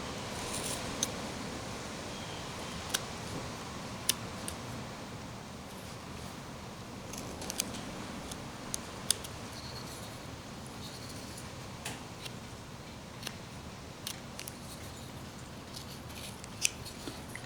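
A knife whittling wood into a miniature cowboy figure, cutting against the grain: quiet close scraping with small sharp clicks and shaving snaps scattered irregularly over a soft hiss.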